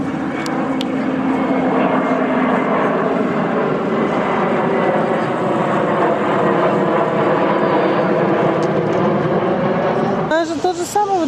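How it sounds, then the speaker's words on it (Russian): Jet airliners landing low overhead near a park in Antalya, Turkey, produce a loud, sustained engine roar that fills the whole stretch, with a brief voice at the end. "Смотри, Миш, самолеты приземляются здесь как низко."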